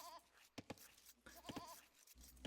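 Goats bleat in Age of Empires, two pairs of short wavering calls close together with a final cry, clear and alone over quiet background.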